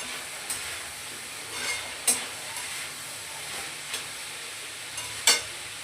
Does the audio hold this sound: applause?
no